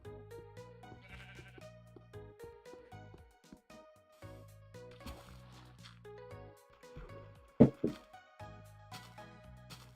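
Sheep bleating in the video game Minecraft Indev on an island survival map, a few short bleats over light background music, with one louder clatter near the end.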